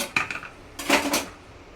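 A metal lid set down onto a cooking pan on low gas, a few light clinks followed by a louder clattering settle, close and without talk.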